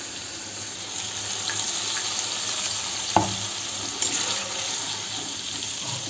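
Ginger, garlic, cumin and dried chilli frying in a pan, with a steady close sizzle and a couple of brief clinks or stirring knocks.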